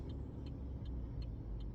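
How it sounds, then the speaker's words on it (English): A truck turning on a road gives a steady low engine rumble and tire noise close by, with faint rhythmic ticking above it, probably a turn signal, and no talk. "Truck turning right here."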